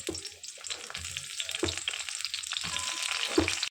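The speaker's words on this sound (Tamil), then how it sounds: "கடாய் காஞ்சிச்சு, இப்போ எண்ணெய் ஊற்றிக்கலாம். வெங்காயம் போட்டுக்கலாம்," Onions frying in oil in a hot kadai, a soft steady sizzle with occasional stirring clinks, fairly quiet and with no talk.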